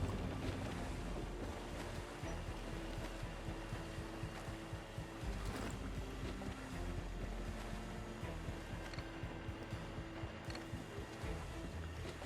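A sailing ship in the Assassin's Creed IV Black Flag video game moves over the sea, with constant rushing water, wind and creaking hull noise throughout and intermittent heavier thuds.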